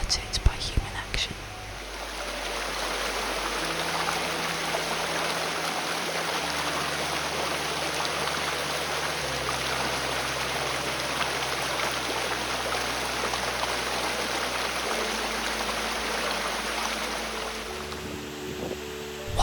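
Steady broadband rush of flowing river water, constant and fairly close, continuing without break for the whole stretch.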